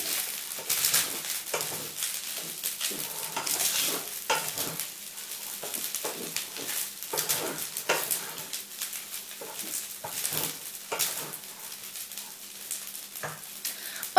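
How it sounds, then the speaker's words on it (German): Fried noodles with meat are stirred in a hot pan, sizzling under repeated scraping and tossing strokes that come in an uneven rhythm, close and moderately loud, with no talking. "Und nun wieder alles gut umrühren."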